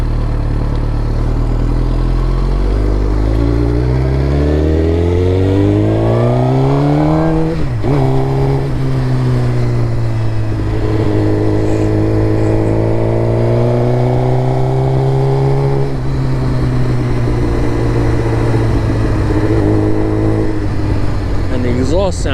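Suzuki GSX-R1000 motorcycle fitted with an M4 MC-36 full exhaust, revving repeatedly with rising and falling pitch, loud and close, a steady engine drone between throttle blips.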